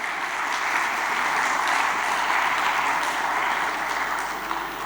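Conference audience applauds in a large hall, a steady, even roar of many hands clapping continuously, moderately loud and without talk.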